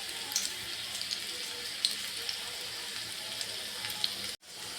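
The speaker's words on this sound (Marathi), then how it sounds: "जिरे घालू लसूण घालूया आपल्याला सारखा तडका द्यायचा आहे मेथीच्या भाजीचा" Cumin seeds and garlic sizzle steadily in hot oil for a tadka while making a dhaba-style garlic fenugreek (methi) dish, a continuous bright hiss with small pops, briefly cut off near the end.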